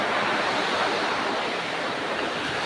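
Strong typhoon wind with driving rain roars as a steady, loud broadband rush, continuous and without a break, no voices present.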